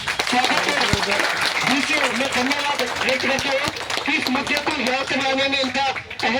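A crowd claps loudly at a public gathering in Jaipur, with sustained dense applause underneath continuous speech from a voice over loudspeakers.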